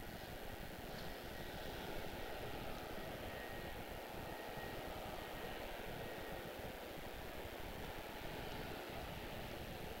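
A United Boeing 787 Dreamliner from San Francisco at Washington Dulles, heard as a faint, distant, steady engine roar blending into broad airport background noise with no voices.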